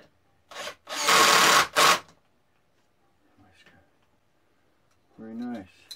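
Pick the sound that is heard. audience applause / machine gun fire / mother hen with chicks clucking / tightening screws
tightening screws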